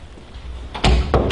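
A house front door opens with a firm thud and latch clatter, followed by a second knock or bump, close by inside a rental home.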